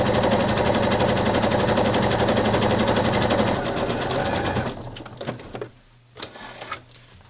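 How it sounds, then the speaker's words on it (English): Sewing machine stitching elastic onto a wrap-around bra, a fast steady close whirring run for several seconds that stops, followed by quieter handling noises. "And then stretch and sew."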